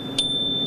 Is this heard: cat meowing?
no